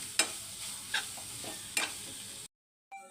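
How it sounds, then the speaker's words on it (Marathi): Boiled raw jackfruit bhaji being stirred in a pan, with three distinct scraping strokes of a spoon over a soft sizzle before it cuts to silence and a brief faint sound at the end. "फणस आपण जरा चांगला व्यवस्थित मिक्स करून घेऊया"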